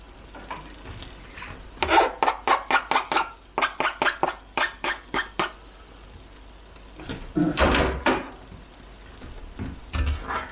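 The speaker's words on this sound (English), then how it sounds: "I scraped up what I could of that to get it off the the cheese grater was what I used." Rhythmic scraping of food off a metal cheese grater while cooking Thai larb gai, two runs of quick rasping strokes, close and fairly loud, with a pause between them.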